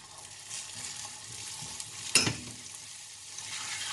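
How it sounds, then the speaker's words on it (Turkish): Butter goes into melted sugar caramel in a pan and meets it with a short, sharp burst of sizzling and hissing, loud and close, over a continuous low frying hiss from the pan, without any speech. "Bir kaşık tereyağı ekliyorum."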